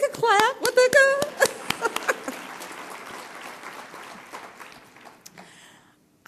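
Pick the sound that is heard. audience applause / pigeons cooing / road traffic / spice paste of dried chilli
audience applause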